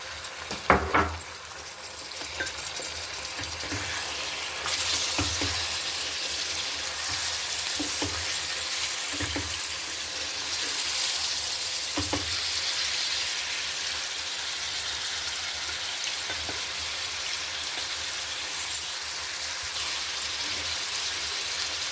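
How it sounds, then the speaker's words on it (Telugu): Prawns frying in a pan with onions, a steady close hiss of sizzling oil that sounds rain-like and runs throughout, with a few utensil clinks and stirring taps near the start. No one speaks. "ఇప్పుడు రొయ్యలు యాడ్ చేసుకుందాం"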